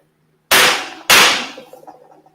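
A gavel bang sound effect: two sharp, loud wooden cracks about half a second apart, the second trailing off in a short rattling decay.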